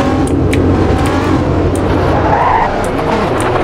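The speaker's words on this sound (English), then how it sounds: "That's a really good drift." A 2017 Nissan 370Z drifts, its engine roaring loud and continuous while tires skid and squeal across the pavement, heard close with no voices.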